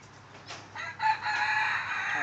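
Chickens on a farm with a rooster crowing, a rising then sustained cock-a-doodle-doo heard close over soft clucking and barnyard ambience.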